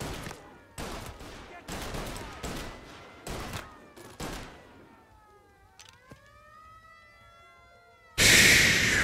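A big gun firing in Mafia Definitive Edition: a run of loud, sharp gunshots at irregular intervals, then a wailing siren rising and falling, ending in a sudden loud burst.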